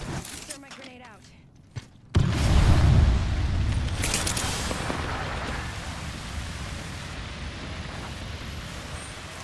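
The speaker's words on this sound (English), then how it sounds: "Thermite grenade out." A thermite grenade going off in Apex Legends: a sudden heavy boom at about two seconds, then a sustained loud roaring burn with crackle and rumble that fades only slowly.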